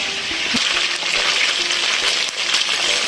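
Chicken frying in hot oil sizzles and crackles steadily up close, with a few light clinks of a utensil against the pan.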